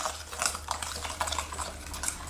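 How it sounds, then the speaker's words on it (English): Pork being mixed with garlic and onion powder gives a continuous wet, squelchy stirring with soft scraping, close and moderately loud over a low steady hum. "Then add a tablespoon of onion powder and mix."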